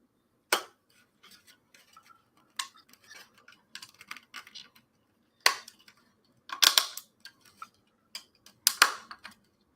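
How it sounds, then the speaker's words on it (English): Sharp plastic clicks from push-fitting parts with screws on a Leopard 2A6 tank model kit, a scattered series of close, crisp snaps, some in quick clusters, with quiet pauses between. "I don't like that clicking sound. I really don't. But I know it's supposed to do it."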